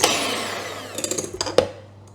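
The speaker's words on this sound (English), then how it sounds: "if you've got a powerful blender like mine, probably more to the 3-minute mark" A powerful blender whirs through an egg mixture, its motor tone sliding down as it winds off, followed by a series of short bumping knocks and clatters.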